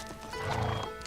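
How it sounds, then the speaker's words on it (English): A horse neighs in a short, loud whinny with a rising and falling tone, heard close and alone without speech, in a historical Chinese drama scene set around horse riding. "And he loves those horses."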